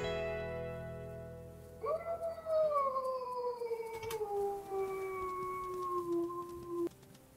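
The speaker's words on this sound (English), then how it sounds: "You have such a pretty howl." A wolf howl from the video game WolfQuest: one long, clear, tonal howl that rises and then slowly glides downward, loud and close, sounding with no talk over it.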